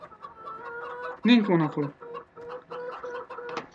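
Hens cluck in the Farming Simulator 2017 video game, a series of short clucks with one louder squawk in the middle, while someone speaks briefly over them.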